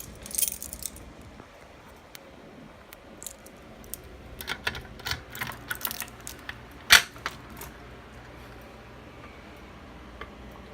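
Handcuff keys jangling and being handled, giving scattered light metallic clicks and clinks of varying loudness, close up, with one sharper clink partway through and no talking.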